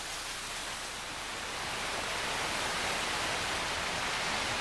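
A waterfall in the Catskill Mountains, where a hotel stands at the top of the falls, sends up a steady, dense wash of rushing water that swells slightly louder partway through and never breaks.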